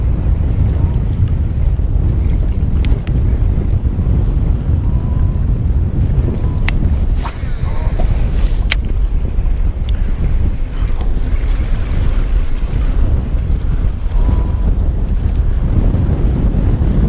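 Wind buffets a microphone out on Guntersville Lake during a late-summer bass fishing trip, a loud, constant rushing roar that lasts throughout, with a few faint clicks and knocks beneath it.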